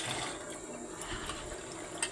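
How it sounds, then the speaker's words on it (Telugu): Minced meat (keema) is swished and washed in water, a close, continuous sloshing and rushing of liquid with a brief splash near the end, no voices. "కైమా అయితే నీటిలో పెట్టుకుని కడుక్కుంటున్నానండి"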